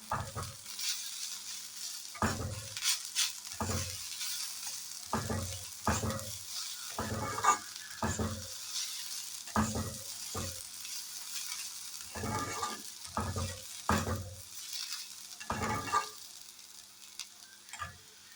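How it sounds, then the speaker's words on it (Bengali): Potatoes frying in oil in a home kitchen, with a constant soft sizzle punctuated by repeated spatula stirring scrapes against the pan at irregular intervals, no talking. "তো আলু ভাজা হয়ে গেছে"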